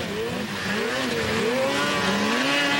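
Snowmobile engines roar and whine continuously at a 2001 WSA Pro Stock snocross final at Grand Prix Valcourt, pitch rising and falling as sleds race through traffic, loud and steady without voices.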